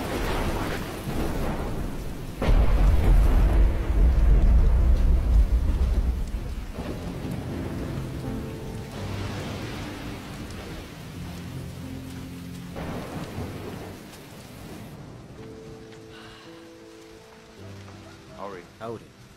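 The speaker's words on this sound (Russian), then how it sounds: "Великий дождь." Heavy rain pours steadily while deep thunder rumbles and rolls, loudest early on, with voices talking in the background.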